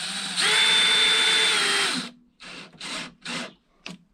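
A cordless drill set to low speed and torque drives a screw into a clamped, glued plywood campervan kitchen unit, a loud two-second whine followed by three short bursts and a final quick blip, close up.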